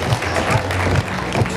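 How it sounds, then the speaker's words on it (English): An audience at a high school prom fashion show claps and cheers in a dense, steady burst of applause that holds for the whole moment. "one last round of applause for Jenna and Nathan."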